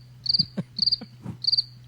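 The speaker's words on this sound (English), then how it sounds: "There's the crickets when we need them." A cricket chirps in three short, evenly spaced trilled bursts, clear and close against quiet, with soft low thumps between.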